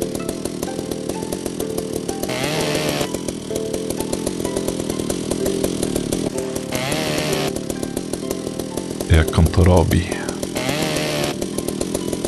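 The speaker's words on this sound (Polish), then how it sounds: "On to robi piłą." A saw grinds through ship hull metal in the video game Ship Graveyard Simulator, a steady loud buzzing drone with a brief harsher burst near the end, and someone talks over it.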